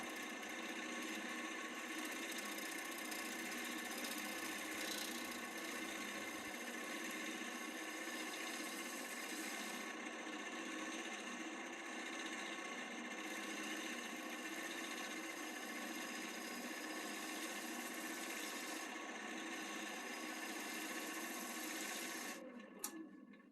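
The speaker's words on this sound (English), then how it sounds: "I'm just using the scraper on the side to get rid of some of the bumps that I've left." Steady, continuous scraping hiss of a scraper smoothing the side of a small black walnut bowl on a wood lathe, with a constant motor hum beneath, stopping abruptly at the end.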